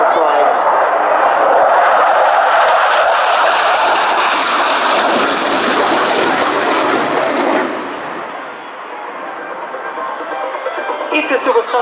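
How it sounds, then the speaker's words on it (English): A Tornado jet aircraft roars loudly and continuously at the Cosford airshow, a broad engine rush swelling to a peak then easing off as the jet slows, with a voice talking over it throughout. "By the way, the jet has been slowing down."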